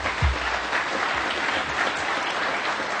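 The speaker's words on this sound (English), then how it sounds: "round of applause for those guys" Applause from a conference audience at a security talk, a continuous wash of clapping at moderate level that holds steady.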